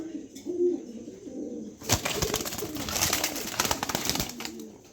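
A male pigeon coos in low, rolling calls, with a burst of fluttering and scuffling midway, close and clear with other pigeon sounds around it.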